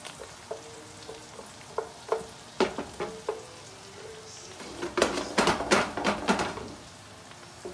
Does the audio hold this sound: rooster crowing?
no